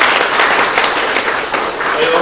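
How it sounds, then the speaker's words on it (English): A room of people at a university video game development club meeting clap together in a loud, steady burst that fills the whole moment without a break. "Just want to give you guys a round of applause"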